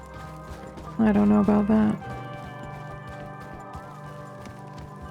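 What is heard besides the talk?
horse hooves in video game Red Dead Redemption 2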